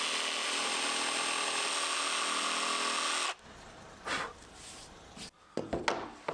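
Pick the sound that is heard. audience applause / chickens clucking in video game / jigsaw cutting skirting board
jigsaw cutting skirting board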